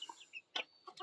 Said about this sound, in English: Those are some big old chickens.